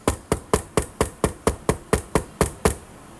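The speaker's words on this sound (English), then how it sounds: "Knock on wood." About a dozen sharp knocks on wood come in a quick, evenly spaced rhythm, close and crisp, before stopping into quiet.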